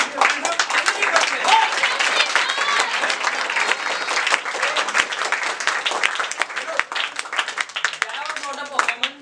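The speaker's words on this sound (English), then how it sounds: "You deserve an outstanding clap from me." An audience applauding at a felicitation celebration, dense sustained clapping from many hands that runs throughout, with voices talking and calling out over it.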